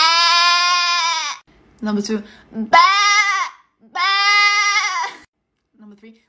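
People imitate sheep, giving loud, drawn-out wavering bleats, three long calls with brief speech and a small bleat between them, all close up.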